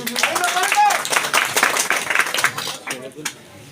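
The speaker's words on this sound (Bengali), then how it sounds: "তার জন্য করতালি হবে" Clapping at a mosque market committee election result announcement, a brief burst of applause from a small gathering that fades after about three seconds, with voices mixed in.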